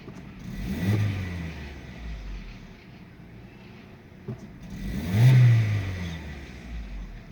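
An Opel Astra petrol engine converted to run on LPG, after a misfire repair, revs up twice with rising hums, settling to a low idle between the swells, heard close.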